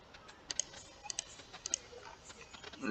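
Light, irregular tapping on a computer keyboard at a desk, a handful of sharp close clicks spread across a few seconds over quiet room noise.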